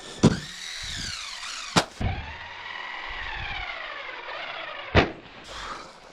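A Traxxas Mini Maxx RC truck runs at full throttle, its electric motor whining in rising and falling sweeps, broken by a few sharp knocks and thumps as it lands and bounces.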